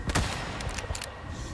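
Gunfire in Resident Evil 4: a short cluster of sharp shots rings out at the start, with a few lighter bangs trailing behind over steady game background noise.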